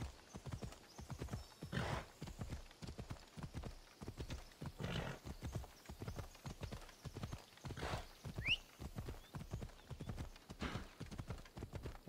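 A horse's hooves clip-clop at a walking pace in Assassin's Creed Odyssey, a regular, evenly spaced series of clear hoof strikes with a short whinny-like cry in the middle.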